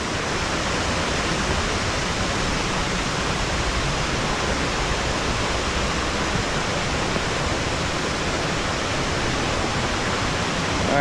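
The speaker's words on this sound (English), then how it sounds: "these cascades are just wonderful." Water rushes steadily down rocky cascades along a hiking trail at Cascade Falls, a dense, unbroken roar that stays loud and even throughout with no voices.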